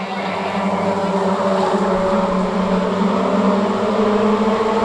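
Stock rod race cars roar around the Cowdenbeath racewall oval in a sustained, layered engine drone that swells slightly as the pack passes, loud and continuous with no break.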